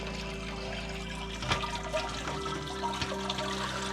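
Brewing wort drains and splashes from a lifted mash basket into the kettle during sparging, a steady watery trickle with low hum beneath and a few sharper splashes.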